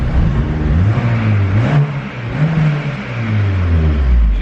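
A turbocharged K24 engine in an EP3 Honda Civic revs up and falls back repeatedly, loud and close, with a low, wavering drone that rises and dips over several seconds.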